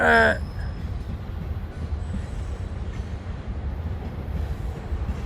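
A freight train rolls past on nearby railroad tracks, a steady low rumble of wheels and wagons with faint squeal, continuous throughout after a brief idling car sound at the start.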